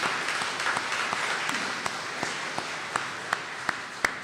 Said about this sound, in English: Please join me in giving a big applause to these wonderful people and